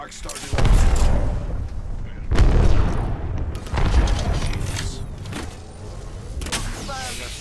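Grenade blasts in Apex Legends, several heavy booms a second or so apart, each rolling off with a low rumble, loud and near.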